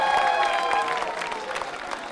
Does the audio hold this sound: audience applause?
yes